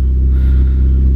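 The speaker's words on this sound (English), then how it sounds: "So far the Miata's running pretty well." Mazda Miata engine running with a low steady idle-to-light rev rumble, a close, even drone with a faint rise in pitch, no voices.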